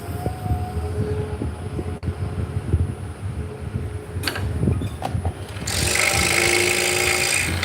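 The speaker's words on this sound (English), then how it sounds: "we are cutting these out on a scroll saw" A scroll saw cuts 5/8 inch cherry wood with a low, busy mechanical drone, a few sharp knocks, and a louder hissing buzz toward the end.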